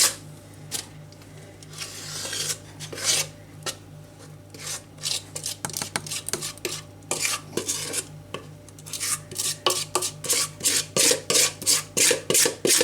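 Banana bread batter being scraped from a bowl into a loaf tin with a utensil, giving repeated close scraping and clinking strokes that speed up into a quick rhythmic series toward the end.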